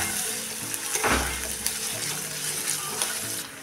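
Finely chopped onion sautéing in a pan: a dense, continuous sizzle with faint scraping stirs, close and even throughout.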